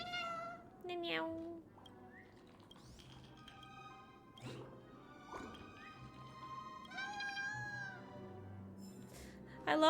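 In Honkai Star Rail, voice actors mimic bird calls, producing a string of high, warbling chirps and meow-like cries scattered over several seconds against quiet background music.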